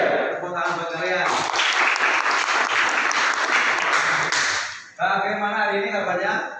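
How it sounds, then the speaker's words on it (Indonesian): A classroom of students bursts into loud, close applause for several seconds, cutting off abruptly, with voices speaking before and just after the clapping. "Tepuk tangan buat kalian."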